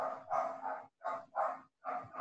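A dog barks repeatedly on an open microphone during an online class, in three or four loud, close bursts separated by short pauses, with no talk over it.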